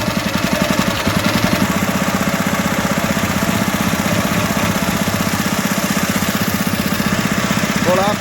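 A motorboat engine on a river in Kerala near Kumarakodi during a boat race, running with a steady, throbbing mechanical drone. The chugging pulse continues close by without a break.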